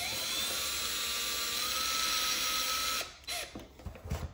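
A cheap cordless drill driving screws while assembling an Extreme Flight 35% Extra NG model airplane, a steady high whine for about three seconds, then stopping and giving way to short bursts and handling noise.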